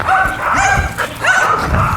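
An excited, leashed shelter dog barks and yips again and again, loud and close, with brief whimpering tones between the barks.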